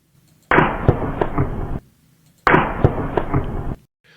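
Two bursts of a recorded gunshot from the Trump assassination attempt, each a loud crack trailing into about a second of rumbling, reverberant echo, separated by a short quiet gap.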